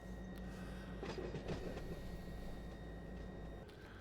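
A CSX autorack local train rolls steadily on track in the Run 8 train simulator game, with a continuous clickety-clack rumble and a couple of sharper wheel clunks, heard alone without voices.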